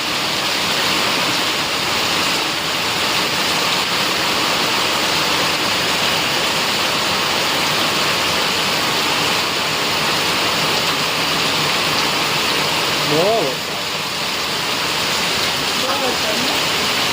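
Flowing water splashes and rushes all around during heavy rain, a loud, dense and unbroken wash of noise with a brief dip and soft whistle-like tones near the end.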